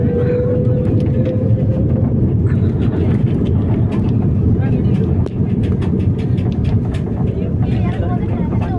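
A SriLankan Airlines airplane lands at Thiruvananthapuram airport, heard from inside as a loud, steady engine and cabin roar that holds without a break, with voices murmuring underneath.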